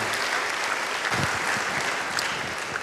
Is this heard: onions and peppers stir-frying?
no